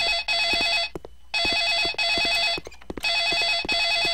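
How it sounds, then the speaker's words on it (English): Telephone ringing inside a horror video game, a loud electronic trilling bell in repeated bursts with short silent gaps between rings, with no voices. "Oh, is that ringing?"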